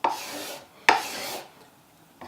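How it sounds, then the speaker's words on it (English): A dull card scraper drags across a wood surface without cutting, giving two short rasping strokes with a dry, scratchy texture. Each stroke starts sharp and fades, followed by a faint third scrape; no one speaks. "If you've never used a card scraper or used one successfully, you're probably used to getting results that sound and look about like this"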